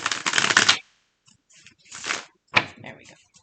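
Tarot cards shuffled close to a microphone in quick, loud riffling bursts, the first long and dense and the later two shorter, with quiet gaps between them.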